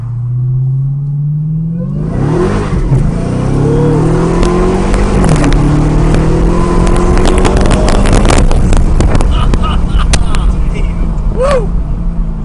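A 2021 Dodge Charger Hellcat Redeye accelerates hard, its engine roaring loudly from close range and climbing in pitch through successive gear pulls, with excited voices shouting over it.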